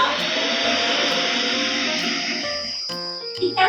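Household vacuum cleaner running, a steady whining hiss and hum that fades toward the end as other tonal sounds take over.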